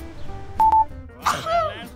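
A single sharp sneeze bursts out midway through a light household moment, preceded by a brief electronic beep and followed by a short voiced sound, with nobody talking around it.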